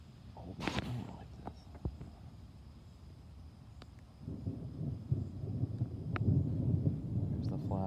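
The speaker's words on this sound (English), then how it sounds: "There's the flash from that thunder we just seen." Distant thunder from a thunderstorm rolls in as a low, sustained rumble, building through the second half, with a few sharp crackles early on.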